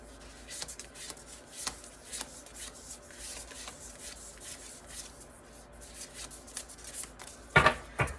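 Tarot cards are handled and shuffled slowly at close range, with soft rubbing, sliding and light flicking, quiet throughout except for a sharper clatter of cards near the end.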